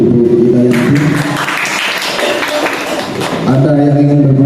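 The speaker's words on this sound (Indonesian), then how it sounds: "beri tepuk tangan untuk Bu Hidayati." Applause for a teacher at a school dissemination session, a crowd of hands clapping in a steady, dense patter that rises in the middle and fades as voices and a tonal hum return, loud and close.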